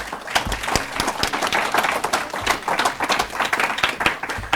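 Audience at a women-in-education event clapping, a lively round of applause with dense overlapping claps, moderately loud and continuous.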